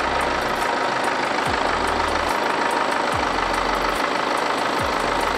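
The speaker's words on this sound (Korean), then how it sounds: "엔진 소리 일정하고 좋습니다" The diesel engine of a BMW 320d GT idles at a steady, even rumble, close by, with faint periodic dips and no talking over it.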